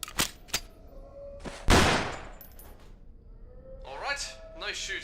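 Gunfire in the horror shooter Underhell: a few sharp isolated shots, then a louder close blast fading out, followed by someone talking over quiet background.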